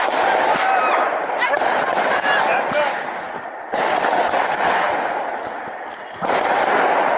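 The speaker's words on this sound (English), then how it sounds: "Fireworks." Fireworks crackle and pop in dense bursts at an outdoor Fourth of July party, with a loud rolling barrage that surges and fades several times amid crowd noise and voices.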